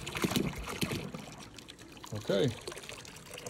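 Water pours into a container for soaking pool filter cartridges in an acid solution, a splashing, gurgling stream with a few short bursts of speech over it.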